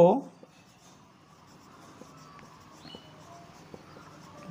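Pen or chalk writing during a math lesson, faint scratchy strokes and occasional light taps on a quiet background, after a brief louder sound at the start.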